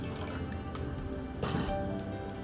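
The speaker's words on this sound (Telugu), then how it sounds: "ఒక కప్పు కందిపప్పుకి 3 కప్స్ వాటర్." Water is poured into a cooking pot for toor dal, giving a brief close splashing and dripping fill with a slight surge partway through.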